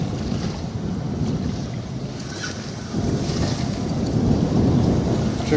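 Strong, cold wind buffets the microphone with a steady low roar while fishing, growing slightly louder partway through, with water lapping beneath and no voices.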